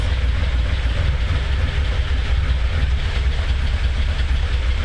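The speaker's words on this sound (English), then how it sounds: "But the idle's really low." A Mitsubishi 3000GT engine idles low and steady with a deep, continuous rumble close to the microphone, suspected of blow-by from worn rings or valve stem seals, smoke easing, with no talk over it.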